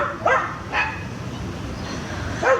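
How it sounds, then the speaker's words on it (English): Several sharp dog barks in separate bursts, a couple close together then another after a pause, fairly near against a quiet outdoor background. "Dogs."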